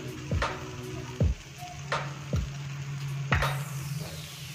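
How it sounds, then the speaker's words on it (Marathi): Spice paste frying in a pan, a steady low sizzle under repeated scraping and stirring strokes of a spoon against the metal, with a few sharp knocks, close and moderately loud. "आता ही सगळी पेस्ट करून घेतलेली चांगली फ्राय करून घ्यायची"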